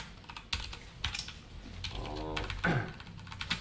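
Quick bursts of close clicking keystrokes on a computer keyboard as C code is typed, with a short whirring scrape partway through.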